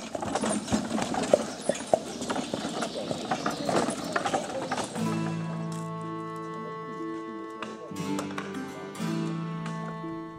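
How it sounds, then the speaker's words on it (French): Draft horses hauling building materials at a medieval-style construction site, hooves clip-clopping in an uneven rhythm at close range for about five seconds, followed by sustained tonal background sounds with a few more scattered steps. "Les chevaux de trait assurent les transports de matériaux."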